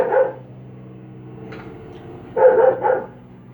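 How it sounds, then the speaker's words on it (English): A dog outside barks in short bursts: one bark, a quieter yelp, then a louder double bark, heard at moderate distance over quiet indoor room tone. "My dog just having a bit of a heart attack outside."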